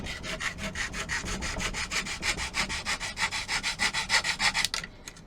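A file rasps back and forth on wood in fast, steady strokes, about five per second, flattening sawn ends of wargame terrain catwalks, close up, stopping abruptly near the end.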